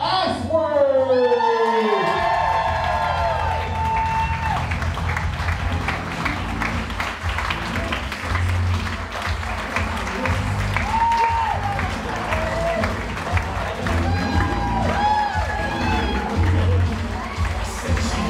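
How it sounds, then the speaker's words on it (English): Wedding guests applaud and cheer the newlyweds after their introduction as husband and wife, with a loud, sustained crowd clapping and shouts filling the room, a voice briefly heard at the start. "Let's give them a big round of applause one more time."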